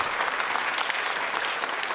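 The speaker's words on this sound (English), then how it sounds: "let me see you clap your hands or something" A crowd gathered for a library ribbon-cutting ceremony claps steadily, dense applause throughout with no speech over it.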